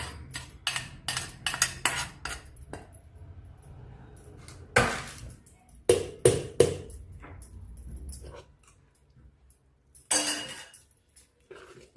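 A spoon stirs paniyaram batter in a bowl, making quick irregular clinks and taps with softer scraping between them, close by, with pauses.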